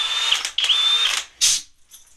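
A hammer drill runs in turbo mode at very high RPM, giving three loud, close bursts of high-pitched whining, rattling drilling separated by short pauses, with the last burst trailing off.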